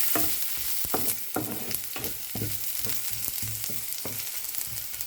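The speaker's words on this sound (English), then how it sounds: "start sauteing the garlic and ginger. Just keep on stirring until the aroma comes out." Garlic and ginger sautéing in hot oil, with a steady close sizzle and repeated scraping stirs of a utensil in the pan, and no talking.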